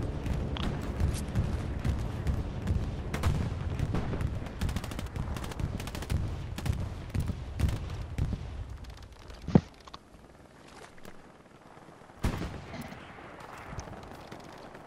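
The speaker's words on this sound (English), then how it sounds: "Is that enemy bombing run?" Dense gunfire and explosions from an enemy bombing run in a video game, a loud continuous barrage of rapid shots and blasts that thins out near the end, with one sharp bang midway and a late burst.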